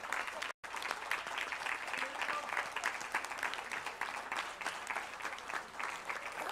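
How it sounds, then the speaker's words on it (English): An audience at the Bhopal Literature and Art Festival in India gives a standing ovation, with dense, steady applause from a large crowd filling the whole stretch apart from a momentary dropout near the start. "And as you all are clapping"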